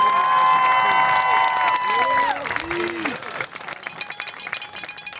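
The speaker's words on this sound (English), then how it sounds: "Let's give them a big round of applause." Crowd at a school homecoming court presentation during a football game gives applause and cheering that fades into scattered claps and chatter, with a sustained tone from the stadium sound system ringing underneath.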